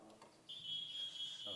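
A council dais speaking timer sounds its alert: a steady, piercing high electronic beep that starts abruptly and holds for about a second, with faint room noise before it.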